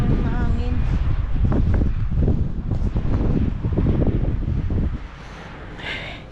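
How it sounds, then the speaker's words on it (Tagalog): Strong typhoon wind in Muscat buffets the microphone in a continuous low roar, loud and close, easing slightly near the end. "masyadong mahangin yung panahon ngayon"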